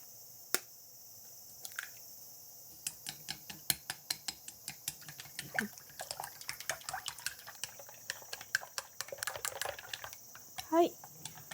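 Six eggs being whisked for homemade omelette rice, giving a run of quick, close, irregular taps and clicks against a bowl that speed up and grow denser, with a faint hum behind.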